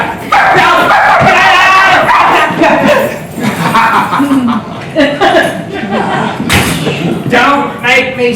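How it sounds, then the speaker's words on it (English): A pet dog barks and yips in short bursts amid lively indoor conversation and chuckling, the barks close and mixed under overlapping voices. "Oh, I see you still have your dog."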